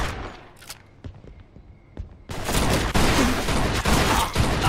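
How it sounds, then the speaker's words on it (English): Gunfire in the Mafia 2 video game begins as a few scattered sharp shots and then swells into a dense, loud fusillade of rapid bursts. "How many shots did he take, for God's sake?"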